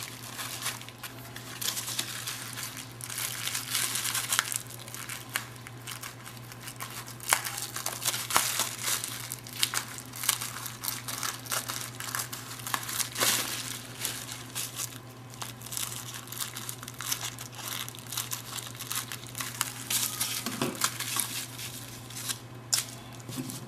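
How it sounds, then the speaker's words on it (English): Plastic bubble wrap is handled and cut with scissors at a paper-craft table, giving close, steady crinkling and crackling with small snips throughout. "I just grabbed one of these bubble wraps and just cut to whatever length you want."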